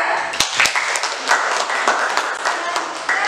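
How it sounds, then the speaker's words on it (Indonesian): A classroom of students applauds a presenting group, a dense patter of hand claps with a few sharper slaps, steady and close for a few seconds. "boleh tepuk tangan untuk kelompok 2"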